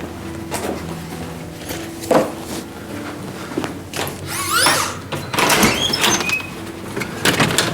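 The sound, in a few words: someone at the shop door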